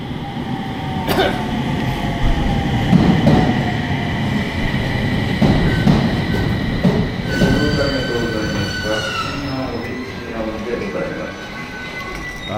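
A local train rolls into a station in Japan with a steady rumble, wheels squealing in high thin tones and brakes hissing as it slows; faint voices sit underneath.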